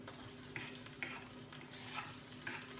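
Chopped tomatoes stirred into garlic frying in a pan, giving a steady broadband sizzle with soft scrapes of a spoon recurring about every half second, close and moderately loud with no talking.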